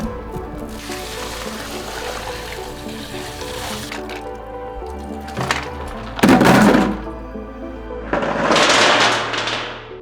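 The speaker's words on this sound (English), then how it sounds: "After 90 minutes, I dump the lights out of the tank so I can inspect each one." Pistol weapon lights dumped out of a water tank after 90 minutes submerged, giving a few wet clunks and clatters with splashing and dripping water, the loudest burst coming near the end.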